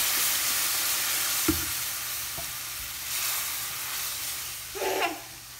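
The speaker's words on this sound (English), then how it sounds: "My veggies and garlic have been letting that raw flour cook out for a couple minutes. So I'm going to add some 1/2 and 1/2." Half and half poured into a pan of cooking vegetables, garlic and flour gives a soft steady sizzle with a few faint stirring clicks and a brief rise in bubbling hiss near the end, heard alone at low level.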